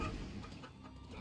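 A chicken clucks in the video game GTA 5, brief soft clucks buried in a dense, noisy game soundscape.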